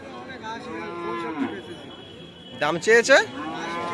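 Cows lowing at a village cattle market where dairy cows are sold, two moos heard close, the second loud and wavering, with a voice talking briefly over the murmur of the market.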